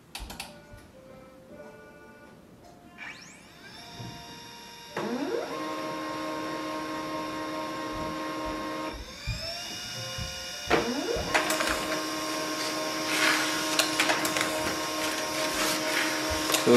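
Pantum P2505W printer running a test page, with whirring motor tones and mechanical clicks that shift pitch as the page feeds through, growing louder and busier toward the end.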